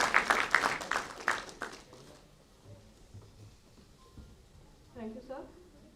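Scattered applause from the audience at a university Republic Day celebration thanks NSS volunteers, a brief burst of claps that fades after two seconds into quiet room noise with faint voices.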